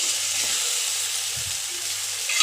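Ghugni masala fries in hot oil in a pan, a steady close, bright sizzle running throughout with a few soft stirring clinks and faint low hum beneath.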